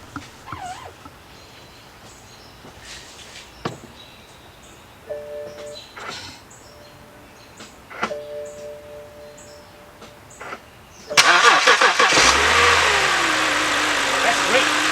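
A BMW 3 Series with a newly replaced power steering pump, raised in the air, cranks and starts near the end, settling into a steady loud idle after several seconds of clicks and soft workshop noises.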